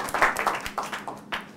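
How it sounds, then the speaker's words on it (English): A small English class claps for a student named Kareem, scattered uneven claps in a short burst, fairly quiet and roomy, fading after a second or so. "Clap for Kareem."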